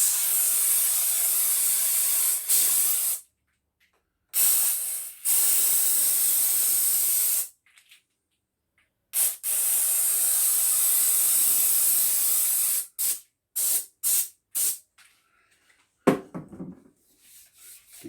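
Oil sprays onto wood to restore its lustre in a steady hiss: several long blasts, then a run of short, quick puffs separated by silences.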